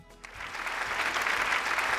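A studio audience on the Malayalam TV game show Super Bumper claps hard and steadily, a dense, loud wash of applause building after a brief start and holding to the end.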